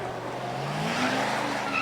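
A vintage sports car with a supercharged 4.2-litre straight-eight engine races at the Prescott hill climb. The engine note climbs in pitch over a short, loud, continuous run, with a faint tyre scrub.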